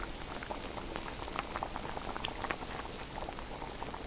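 Pork slices simmer on low heat in a pot of water seasoned with soy sauce, salt and pepper, alongside a ham sausage, giving off a steady, close bubbling and gentle hiss.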